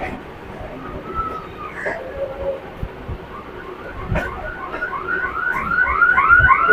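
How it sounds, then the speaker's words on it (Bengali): A Kolkata suburban local train pulls out of Barabazar station, its wheels squealing in rising, repeated whines over a rumbling carriage, growing louder toward the end. "আর আমাদের ট্রেনটি এখন বড়বাজার স্টেশন থেকে ছেড়ে দিল"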